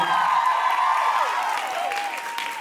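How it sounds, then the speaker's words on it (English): Audience applause at a college fashion show, a dense wash of many hands clapping at moderate volume, sustained and even with a few high tonal sweeps riding over it. "Round of applause for her."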